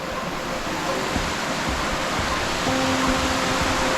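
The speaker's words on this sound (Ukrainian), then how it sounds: "Ось ми підходимо до наступного водоспаду" A waterfall in a rocky canyon in Oregon roars as a steady, dense rush of falling water, loud and unbroken throughout, with a faint tonal hum now and then.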